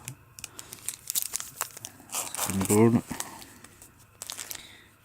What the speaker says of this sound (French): c'est une ouverture des cartes Dragon Ball